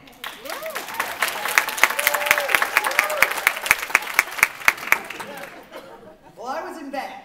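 Audience applause greets an actor's opening act at an actor showcase, a dense crowd clapping with a few chuckles mixed in, fading out before a voice begins talking near the end.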